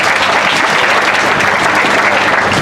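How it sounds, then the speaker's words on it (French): Steady, loud applause from an audience at a vin d'honneur reception welcomes Madame Saouba. The clapping is dense and continuous throughout, with no talk over it. "Vos applaudissements, s'il vous plaît,"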